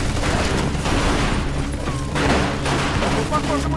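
Machine-gun fire in Mafia II: dense, continuous rattling bursts that stay loud through the whole stretch, with game voices talking over the shooting.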